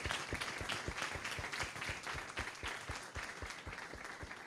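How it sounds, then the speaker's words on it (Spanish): Audience applause closing a lecture by a biologist in Chile, a steady patter of many hands clapping at moderate distance, sustained evenly throughout. "Un aplauso para Vanessa."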